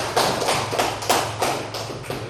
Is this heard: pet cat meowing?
no